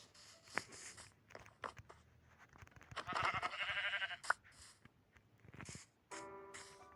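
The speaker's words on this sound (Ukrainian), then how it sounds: "овечка." A sheep bleats clearly a couple of times in a video game, amid scattered clicks and footstep-like taps, with a brief buzzing tone near the end.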